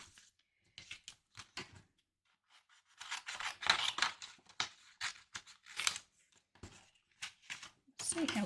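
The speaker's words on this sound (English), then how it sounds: "So I'll just snip off a piece of that for a die cut." Scissors snip through a piece of card for a craft die cut, a run of close, crisp cutting strokes and rustles at a craft table, with a voice speaking between the snips.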